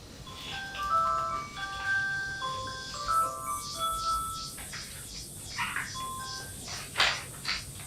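A telephone is dialed to place a call, a run of short electronic key tones in quick uneven succession, fairly close and clear, with no talking.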